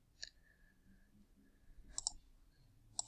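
Keyboard typing clicks entering a math answer into an online homework answer box, a few quiet isolated taps in short bursts with a faint background hum.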